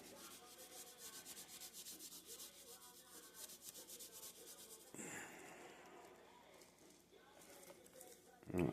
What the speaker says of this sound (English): that's all this recipe calls for, is rubbing it